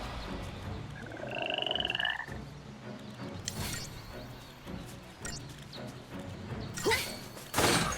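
Frogs croak in the Sunleth Waterscape, a wetland area of the video game Final Fantasy XIII, their repeated ribbiting calls close and clear over a dense ambient game backdrop with occasional thuds and swells.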